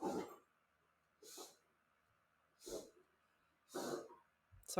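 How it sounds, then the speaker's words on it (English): A pet dog makes short huffing, throaty noises in four or five separate bursts with quiet gaps between them, close by in a room, with a brief spoken word near the start. "sorry about the weird noise. It's just my dog."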